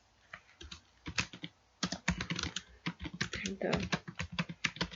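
Typing on a computer keyboard during a CSS coding lesson, with steady close clicks in quick bursts and a few short pauses, while a voice speaks briefly over the keys.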